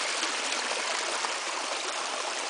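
Small waterfall on a stream over solid rock, a steady, dense rushing and splashing of water that fills the scene evenly without pause.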